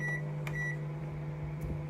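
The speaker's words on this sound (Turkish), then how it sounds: "Yani mikrodalga fırına koyuyorum." A steady low electric hum of a microwave oven running while cooking cabbage, with a faint high tone and light clicks over it.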